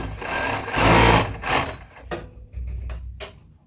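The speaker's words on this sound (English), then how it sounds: "I'm going to sew it straight to the crotch area" A sewing machine stitches baby cloth along the crotch seam, running in uneven bursts of rapid mechanical whirring with brief pauses and short restarts, close and fairly loud.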